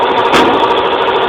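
Rebuilt 18 horsepower engine on a Yardman garden tractor revs loud and close, a steady roaring drone with no pause throughout.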